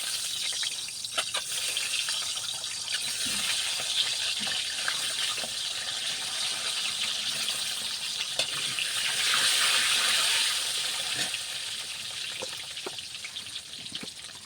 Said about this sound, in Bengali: তেলটা সুন্দরভাবে গরম হয়ে গেছে ডিমগুলো দিয়ে দিলাম